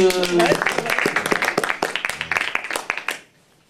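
An audience at an open-stage comedy night claps for about three seconds, a dense patter of hands that tapers off and stops. A voice is heard briefly at the very start.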